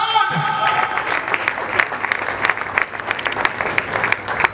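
Applause from guests at a charity gala honouring legends and an ambassador, a music note fading as many hands clap in a quick, sharp, sustained burst with some crowd voices underneath.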